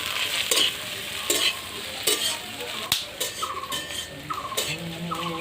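Onions and fat frying in a pan for aloo chop filling, with soft sizzling under repeated scraping stirs and a few sharp clatters of the spoon against the pan.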